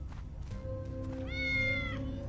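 A cat meows in the video game Tales of the Neon Sea: a couple of short mews, then a longer, clear, tonal meow, close and fairly loud over faint game ambience.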